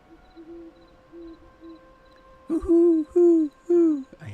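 Owls hoot in a rhythmic series in the game Hytale, with several soft, evenly spaced hoots followed by three louder, closer, drawn-out hoots.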